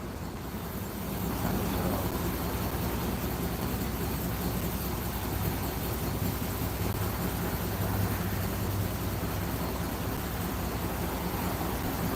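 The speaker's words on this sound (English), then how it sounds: "Yo, is this truck too loud?" A truck engine runs steadily, a loud continuous low rumble that holds throughout with no pauses, and no one speaks.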